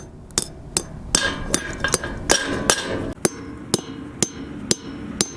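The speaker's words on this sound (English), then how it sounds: "you pound your fastener into place" Repeated sharp hammer blows drive a fastener into a rusted metal handrail in a steady rhythm, a dozen or so close, ringing hits.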